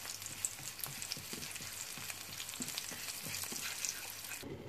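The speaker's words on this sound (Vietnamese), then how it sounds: "Mình sẽ xào lên nha." Ingredients sizzle and crackle as they are stir-fried in a pot for bún bò Huế broth, a steady close frying hiss broken by repeated stirring scrapes.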